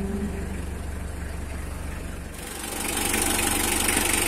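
Engine of a 2016/2017 Mitsubishi L300 pickup idling steadily, a continuous low rumble with even vibration that grows slightly louder and brighter partway through, no talk over it.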